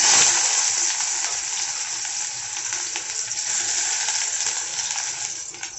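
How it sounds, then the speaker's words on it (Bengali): Chopped onion frying in hot oil in a wok makes a loud, even, hissing sizzle, close up and steady throughout with slight crackle, no voices. "এখন আমি পেঁয়াজ কুচোটা দিয়ে দেবো।"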